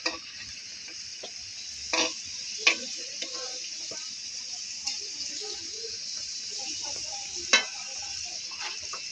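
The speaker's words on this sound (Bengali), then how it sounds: "হয়ে গেছে আমাদের পিঠে ভাজা" Pitha rice cakes deep-frying in oil, giving a steady soft crackle with a few sharp clicks of a utensil against the pan, heard alone at a moderate level.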